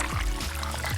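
Ice-cold Coca-Cola Zero Sugar fizzes and crackles with dense carbonation bubbles right after pouring, a close, continuous, bright hiss with a faint trickle.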